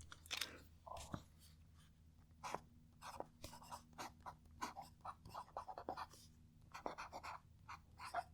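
Soft, quiet scratching of a Pelikan fountain pen nib across paper, in short irregular strokes with brief pauses between them, close up and faint over a low steady background hum.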